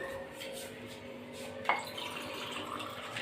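Water runs quietly from an RO purifier tap in a kitchen into a container, a soft steady trickle with a faint clink partway through.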